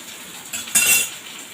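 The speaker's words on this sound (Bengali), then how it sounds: "ডালটা এবারে দিয়ে দেব।" Cooked dal being tipped into a pan for chalta dal, made with elephant apple, with a brief metallic clink of utensil against pan and a soft splash, close and short, alone without talk.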